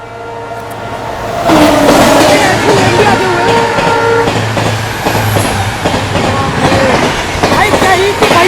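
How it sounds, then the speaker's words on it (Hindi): The Bhuj–Bandra Kutch Express passes close by as it overtakes, a loud sustained rumble of wheels and clattering carriages with rhythmic clicks and a horn-like tone, and people talking over the noise. "भाई इधर से कच्छ एक्सप्रेस आ रही है"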